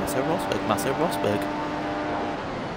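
F1 race car engines in F1 2015 at the Italian GP whine at high pitch as several cars pass close by one after another, with a voice talking over the engine noise.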